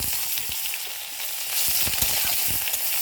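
Chopped onions fry in hot oil with dried red chilli, bay leaf and panch phoron for a cauliflower curry, giving a steady close hiss broken by crisp crackles and occasional stirring scrapes.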